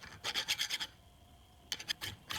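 A thick hand file rasps burrs off a metal workpiece in a workshop, in two clusters of quick rhythmic strokes, close and clear, separated by a brief pause.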